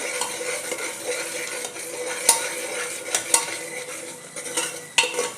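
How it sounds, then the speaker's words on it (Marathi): Onion-garlic masala and turmeric sautéing for chole, with steady frying sizzle and repeated spoon scrapes and clinks against the pan, a few sharper metallic knocks standing out, no talking. "व्यवस्थित परतून घ्यायचं आहे."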